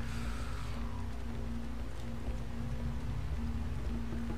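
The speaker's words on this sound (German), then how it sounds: "Warum regnet es denn hier?" Rain in the video game Star Wars Republic Commando falls steadily through a broken window, a soft constant patter with a low droning hum beneath, even and unbroken.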